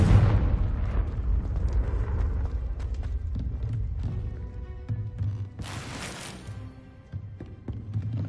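Confringo blasting spell from Hogwarts Legacy, a series of booming explosive bursts with rumbling low end and crackling debris, loud and close, with a bright burst near the middle.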